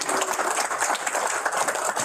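Steady applause from the audience at a Fire Prevention Week proclamation signing, honoring a fire captain and committee chairs, continuous and fairly close.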